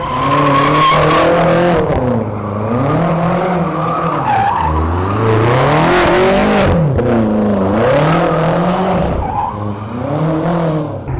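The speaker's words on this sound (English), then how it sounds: "This is a 6-liter V12 bi-turbo." A Mercedes S65 AMG with a 6-liter V12 bi-turbo engine revs hard and close, its pitch rising and falling in repeated sweeps with loud tire noise throughout.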